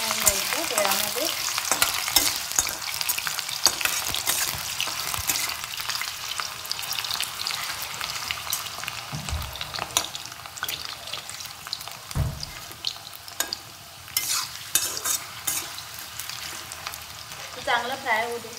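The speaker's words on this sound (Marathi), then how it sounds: "हे बटाट चांगलं फ्राय होऊन द्यायचं तेलामध्ये।" Potatoes fry in oil, a bright, crackling sizzle broken by frequent stirring scrapes and occasional clatters, close and steady for the whole stretch.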